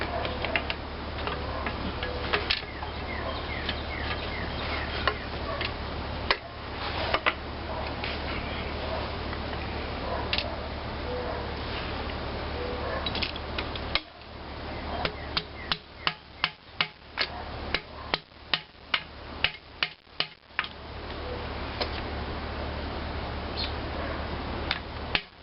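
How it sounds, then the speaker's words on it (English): Sharp wooden knocks strike a piston inside a 1920 International Type M antique engine during teardown, a steady run of taps in the second half, close and fairly loud over a low mechanical hum, with occasional background voices. "let's see can we get that piston out of there with a piece of wood"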